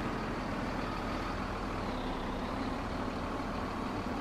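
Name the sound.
trucks maneuvering a trailer at a bridge, Farming Simulator 17 video game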